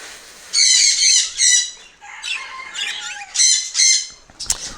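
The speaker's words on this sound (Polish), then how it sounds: "zaczynają pomału papuszki wyglądać i już wyfruwać" Young budgerigars in a breeding cage give loud, close squawking chirps in repeated bursts, with brief gaps between calls.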